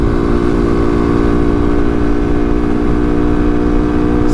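A Vader 125 motorcycle engine revs hard and steadily while riding near top speed, a loud continuous buzzing drone with strong harmonics and no talking.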